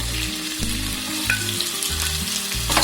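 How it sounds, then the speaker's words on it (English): Okra (bhindi) fries in about two tablespoons of hot oil in a pan, giving a steady, close crackling sizzle with no voices. "Now I'm going to fry the bhindis."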